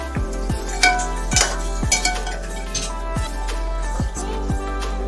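Ground masala for a home-style mutton gravy is sautéed in a pan, with repeated clinks and scrapes of a spatula against metal over a faint sizzle, close by and steady, under a constant low machine hum with regular pulsing sweeps.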